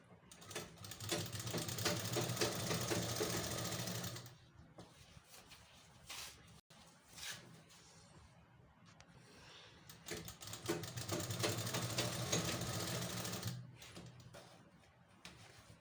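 A sewing machine stitches elastic onto palazzo pants in rapid, rattling runs, one long burst, a pause with soft handling noises, then another long burst, fairly close and on its own.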